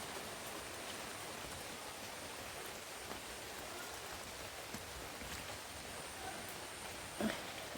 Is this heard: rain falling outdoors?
yes